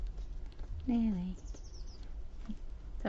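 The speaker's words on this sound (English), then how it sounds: "Don't know if you can hear the little birdie outside." A small bird sings faintly outside, heard from indoors as one brief chirping phrase and then a short high trill over quiet room noise.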